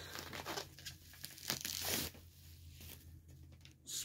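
A package wrapped like a grocery bag, holding a VHS tape, is torn open and crumpled by hand, giving close, fairly soft bursts of ripping and crinkling paper in uneven spurts with no speech.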